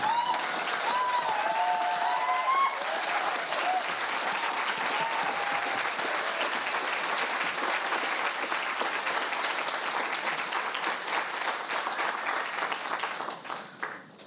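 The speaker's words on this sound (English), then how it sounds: "I really think we should clap for our graduates." A crowd at a 2019 seminary graduation ceremony applauds the graduates: loud, continuous, densely layered clapping for about fourteen seconds that tapers off near the end.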